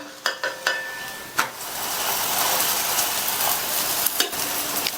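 A dosa cooking with ghee on a hot griddle gives a steady crackling sizzle, with a few sharp metallic taps and spatula scrapes near the start and one more near the end.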